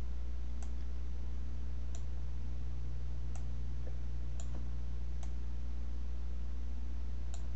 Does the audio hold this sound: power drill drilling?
no